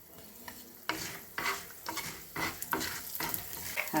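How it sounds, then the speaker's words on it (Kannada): Mustard seeds, chana dal and urad dal sizzle and crackle in hot oil for a vangi bath tempering, with a spoon stirring in repeated scraping bursts close up and no talking. "ಸಾಸಿವೆ ಚಟಪಟ ಅಂದ ತಕ್ಷಣ ಕಡಲೆಬೇಳೆ,"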